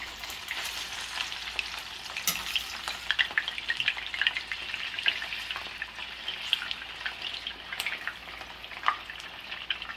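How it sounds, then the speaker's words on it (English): Steady crackling sizzle of food frying in hot oil, close and continuous, with scattered louder pops and spatters throughout. "fry it to where it's like golden brown, I guess"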